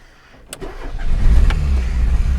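A car engine cranks and catches, then settles into a low, loud rumble close by, with no voices.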